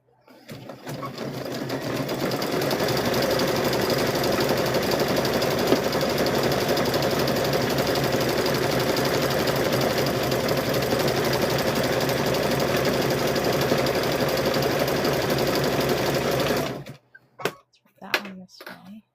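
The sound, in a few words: sewing machine stitching rope bowls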